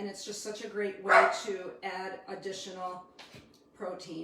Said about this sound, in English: if you hear the dog in the background